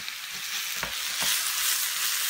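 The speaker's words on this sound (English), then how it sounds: "Give the piece a little stir." Walleye fish pieces fry in hot oil and are stirred, giving a steady, close sizzle broken by a couple of soft stirring knocks. No voices are heard.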